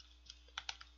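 Four or five quiet, crisp keystrokes on a computer keyboard as a file name is entered, spaced irregularly over a second against a faint steady hum.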